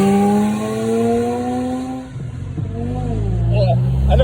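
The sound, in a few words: car driving past in a quick send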